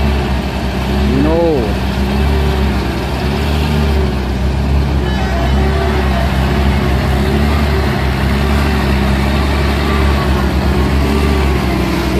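Heavy Hino trucks rolling in a three-unit convoy on a steep road, a steady loud low engine drone with a brief rising horn-like tone near the start, under background voices.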